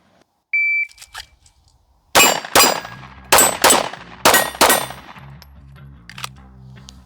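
Pistol shots fired at a paper target at a shooting range, six sharp loud reports in quick uneven succession after a short electronic timer beep, each cracking shot trailing off in a brief ringing decay.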